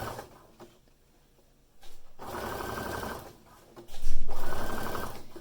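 Sewing machine stitching clear elastic onto briefs, running in two bursts of rapid, rhythmic mechanical chatter, the second one louder, separated by short quiet pauses and faint handling sounds.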